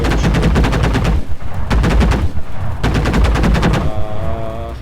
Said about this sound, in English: The least we can do is just strafe the ground to make it easier for our teammates.